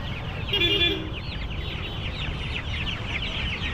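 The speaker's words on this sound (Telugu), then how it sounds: "ఇవన్నీ గిన్నె కోళ్ళు" Harsh, repeated calls rise from a flock of guinea fowl, busy and close, over the steady hubbub of a crowded livestock market.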